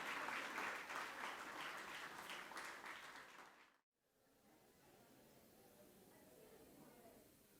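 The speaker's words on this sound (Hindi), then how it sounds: "तो जोरदार तालियां" Audience at a school Founder's Day celebration applauds the children, dense clapping that is loud at first, breaks off abruptly near the middle, then returns as a fainter, more distant wash.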